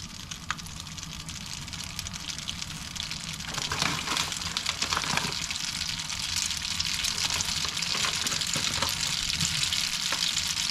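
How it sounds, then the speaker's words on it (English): Breadcrumbs fry on high heat in a pan with garlic, oil and chili, giving a continuous dense sizzle that swells louder partway through and stays steady and close. "You drop a bunch of breadcrumbs over."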